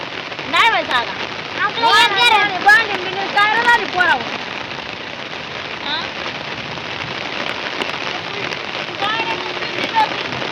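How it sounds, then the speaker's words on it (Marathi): Heavy rain pours steadily in a rural village yard in November, a dense hiss of drops on surfaces continuing throughout, with voices talking over the downpour in the first few seconds. "आज पावसाने सुरुवात केली"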